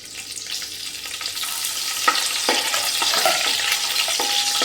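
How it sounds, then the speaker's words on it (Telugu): Green chillies hit hot oil in a pan for pulao with a rising hiss of sizzling, mixed with a few soft clinks and stirring scrapes. The frying is close and steady, with no talk. "పచ్చిమిర్చిని కూడా వేసేసుకుందాం"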